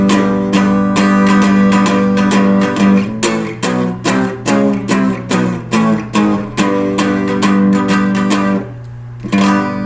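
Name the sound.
guitar power chord strummed on all strings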